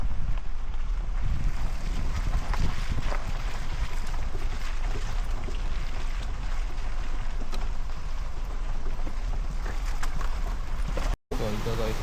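Motorboats on a river below a mountaintop campsite at Mt Acato, a steady engine drone mixed with heavy wind buffeting the microphone for the whole stretch, briefly cutting out near the end.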